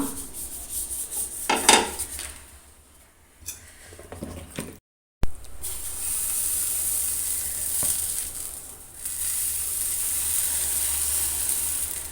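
Chicken pasta masala being mixed in a pan over heat: a steady sizzle with rubbing, scraping stirring strokes, close up, briefly cut to silence partway, then a continuous loud frying hiss.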